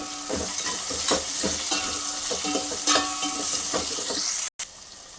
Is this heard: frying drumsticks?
yes